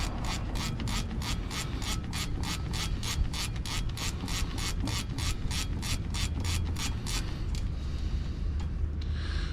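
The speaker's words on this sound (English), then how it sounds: "Just using a ratcheting wrench, 11 mil." A ratcheting wrench clicks off 11 mm bolts on a 1999 GMC Yukon rear end, a fast even run of about two dozen sharp ratchet clicks close by, then a short pause.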